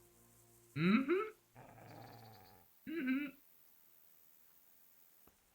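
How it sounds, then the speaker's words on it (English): Dogs in Kingdom Come: Deliverance growl and bark in two sharp close bursts with a rumbling snarl between them, then quiet; a voice murmurs briefly. "Stop barking."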